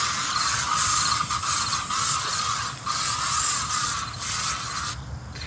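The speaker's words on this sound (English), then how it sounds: "First things first, bug spray." A continuous bug spray aerosol hiss sprays in long pulses with brief dips, close and fairly loud, cutting off near the end.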